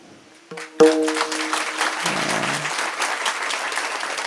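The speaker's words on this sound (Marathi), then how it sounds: "टाळी जर वाजवली तर खेडला आवाज गेला पाहिजे" A crowd at a kirtan bursts into sustained applause after a brief sharp tone, steady dense clapping that carries on to the end.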